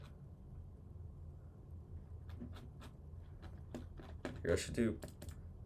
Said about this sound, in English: I just realized how my keyboard sound comes through.